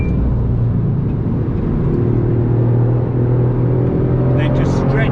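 A Toyota Yaris GR on the Nürburgring Nordschleife gives a loud, steady engine drone from inside the cabin, with road rumble underneath, as the car brakes and shifts down a gear.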